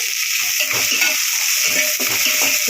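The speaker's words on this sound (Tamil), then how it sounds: "நல்லா வதக்கிப்போம்." Onion, tomato and curry leaves being sautéed in a pan for potato kurma, a loud, steady sizzle with soft scraping stir strokes and no voices.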